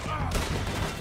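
A brief burst of gunfire strikes the player in Red Dead Redemption 2, a dense rapid crackle of shots lasting about a second, loud and close.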